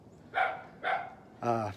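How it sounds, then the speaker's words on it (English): A dog gives three short, distinct barks, evenly spaced and fairly close, with the last one fuller and slightly longer, heard indoors without talk over them. "Ah, there's a dog."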